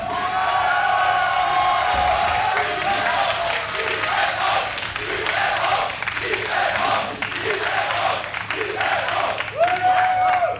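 A live esports crowd at a StarCraft 2 WCS Europe Premier League quarterfinal cheers, whoops and applauds for Liquid's German Zerg player TLO, a loud, sustained roar with claps and shouts that swells again near the end.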